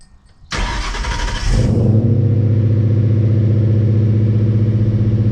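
A 1971 Dodge Challenger R/T engine cranks over cold, catches within about a second, then settles into a loud, steady, lumpy idle close by, with no voices.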